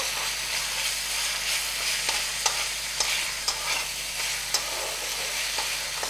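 Spice masala stir-fried in oil in a pan for Bengali egg korma curry, a continuous close sizzle broken by regular scraping strokes of a spatula against the pan.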